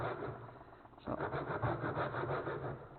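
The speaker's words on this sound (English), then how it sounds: "Let the saw do the work" A hand saw rasps through wood in steady back-and-forth strokes, quieter at first and then louder and rhythmic, close by with no talking.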